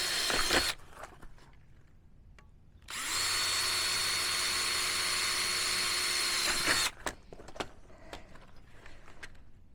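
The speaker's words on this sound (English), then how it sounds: "hole drilling time." A power drill whines steadily for about four seconds as it bores through aluminum on a garage roll-up door, framed by clicks and handling noises before and after.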